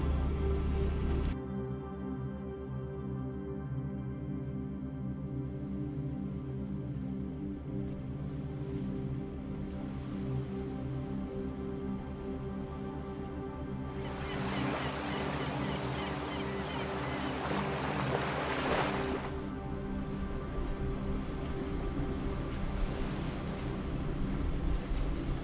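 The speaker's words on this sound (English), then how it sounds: "after 15 hours of motoring now, listening to the engine" A sailboat motoring at sea off the Norwegian coast toward Lofoten, its engine droning steadily and close throughout, with wind and water noise swelling briefly midway.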